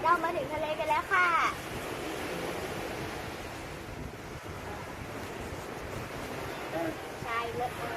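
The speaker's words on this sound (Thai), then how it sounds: "เรามาถึงทะเลกันแล้วค่ะ" Sea waves at the beach, a continuous soft wash of surf mixed with wind buffeting the microphone, with brief voices heard at the start and near the end.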